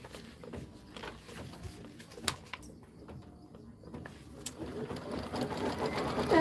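An embroidery machine stitches a placement line on white-on-white polka dot base fabric in the hoop, a soft rapid mechanical patter that builds louder toward the end.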